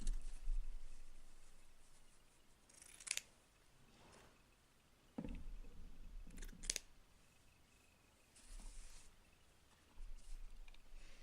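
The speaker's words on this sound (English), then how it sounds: "we're just going to cut a rectangle" Scissors snipping through a length of felt to cut out a rectangle for a crafted Christmas ornament head, a few short, crisp cuts spaced apart over a faint room background.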